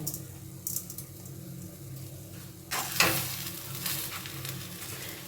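A spoon stirs a teaspoon of sugar into a sizzling potato curry in a pan, with a quiet simmer at first and then louder scraping and crackling strokes close by, without speech.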